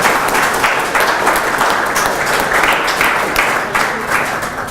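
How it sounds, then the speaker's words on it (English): Audience at a university conference welcoming cocktail event applauding students, a sustained wash of many hands clapping, loud and continuous with no break. "Let's clap for them."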